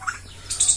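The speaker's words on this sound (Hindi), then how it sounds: "और बहुत ही प्यारी प्यारी परिंदों की यहाँ पे वॉइसेस हैं" Birds chirp in a garden full of flowering plants during the monsoon season, short bright tweets, one brief call and then a higher twittering burst, fairly close, with no talking.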